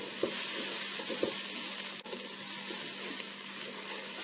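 Food sizzles steadily in a Ninja Speedi while a utensil stirs it, giving soft scraping clinks at irregular intervals over the constant hiss, heard close with no talking.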